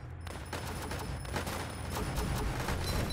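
Machine gun fire in the Northend Tower Defense game crackles as a rapid, continuous stream of overlapping shots and small bursts, fairly loud and steady throughout.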